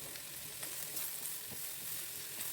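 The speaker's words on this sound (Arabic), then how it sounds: "وهبتدي اشوح ده كله مع بعضه كده بسرعه" Chicken sautéing in a pan with dried thyme and paprika gives a faint, steady sizzle and frying hiss, with light stirring scrapes now and then.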